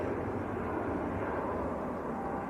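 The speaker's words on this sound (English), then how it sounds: "Airbus A321 Neo." An Airbus A321neo airliner at Manchester Airport gives a steady, distant jet roar, a broad continuous rumble with no distinct peaks, heard alone.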